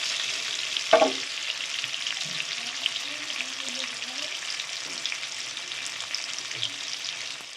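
Potatoes frying in oil in a pan for a crab curry, a steady close sizzle throughout with a brief clatter of a utensil near the start and faint scraping stirs.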